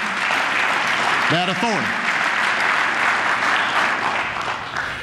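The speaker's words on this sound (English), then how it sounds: "it was a speech that was not short on applause" Sustained applause fills a chamber after a speech to Congress urging a resolution authorizing force against ISIL. The clapping holds a steady, dense roar throughout, with a brief spoken phrase heard over it.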